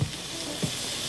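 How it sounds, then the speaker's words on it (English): Yellowtail snapper sears in a very hot sauté pan, a loud continuous close sizzle with a soft thump at the start and another just past midway. "You wanna make sure your saute pan is very hot, and I'm gonna sear the fish"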